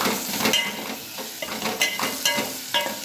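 A spoon stirring a spice mix of turmeric, crushed black pepper and black salt in a pan for a vegetable bread roll filling, with scraping strokes and faint sizzling, close and steady, no talk.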